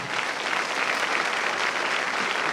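A church congregation applauding, steady dense clapping that fills the room evenly at moderate volume with no voices over it.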